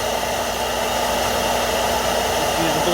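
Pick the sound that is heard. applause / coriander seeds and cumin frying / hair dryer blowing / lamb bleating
hair dryer blowing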